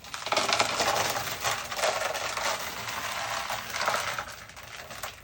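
A steady rattling clatter of small hard stones pouring and tumbling together, with a few louder surges as the flow shifts.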